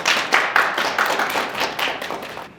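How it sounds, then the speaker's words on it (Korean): A small audience at a Daegu carbon-neutral city forum claps for a few seconds to welcome a speaker, a brief patter of applause that tapers off. "박수로 모시겠습니다"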